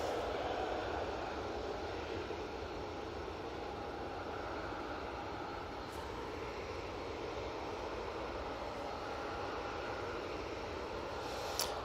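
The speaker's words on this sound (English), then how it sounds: "This is the EasyJet coming in from Belfast using the A319 for this." EasyJet Airbus A319 jet arriving at Manchester Airport from Belfast, a steady distant roar of engines holding at even loudness, with no talk.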